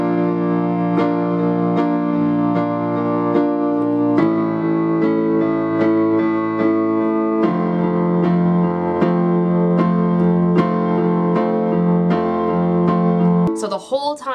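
Piano plays the chorus of a song from the game Transistor, twice through, with steady repeated chords on the beat and a sustained bass note, loud and close, no voices.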